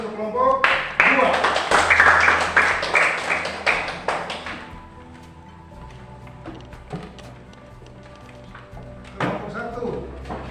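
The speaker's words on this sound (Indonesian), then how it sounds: "kita berikan aplaus untuk kelompok 2" Classroom applause for a student group, a burst of brisk hand clapping from several people lasting a few seconds before fading into scattered taps, with people talking over it.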